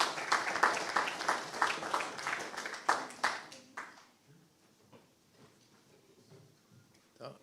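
An audience at a student hackathon award ceremony applauds for about four seconds, a dense patter of many hands that then fades to scattered claps and quiet room noise.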